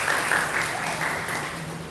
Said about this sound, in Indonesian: Beri tepuk tangan yang meriah untuk lembaga ini.